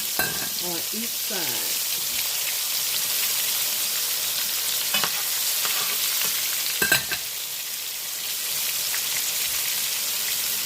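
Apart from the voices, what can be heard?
country fried steak frying in a pan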